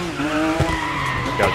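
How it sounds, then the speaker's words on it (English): Porsche drifting in Dirt 5 during a gymkhana run, a continuous tire skid and engine drone with a sharper squeal toward the end, steady and fairly loud under a faint voice. "My first time drifting on this game."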